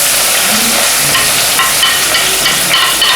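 Chopped onion hits hot oil in a pan and sizzles loudly and steadily throughout, a dense close crackle with faint stirring and no talk over it.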